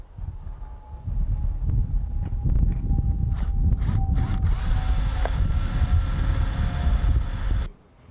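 A power drill bores through curved corner trim into the corner truss while assembling a Sunglo Model 1000C greenhouse, giving one continuous, close whirring run of about six seconds that stops abruptly.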